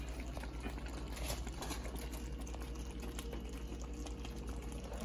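Spicy laing, taro leaves with dried anchovies and meat, simmers in a pot with a steady, close bubbling and burbling that never lets up, and no one speaks.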